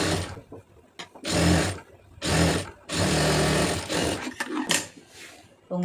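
A sewing machine stitches a waistband in loud, close bursts of rapid mechanical whirring, several runs of about a second each separated by short pauses and small handling noises.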